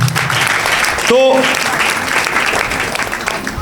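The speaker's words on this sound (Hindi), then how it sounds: "तालियां बजा रहे जोरदार।" Loud audience applause fills a church or sermon hall, steady and dense throughout, with a brief spoken word and a short tonal sweep cutting through early on.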